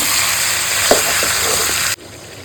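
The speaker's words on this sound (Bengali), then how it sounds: "ভালো করে একটু নাড়াচাড়া করে কষাই" Meat being sautéed in oil in a home kitchen, a loud continuous sizzle close up with a couple of stirring scrapes, cutting off abruptly near the end.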